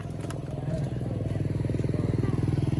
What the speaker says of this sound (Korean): 아 저기 오토바이 하나 간다